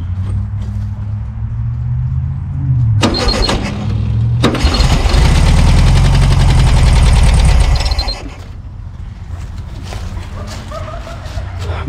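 A 1974 VW Super Beetle engine, abandoned and being revived, cranks and catches, roaring loudly for a few seconds before dropping back; a dog's barks and whimpers mix in around it.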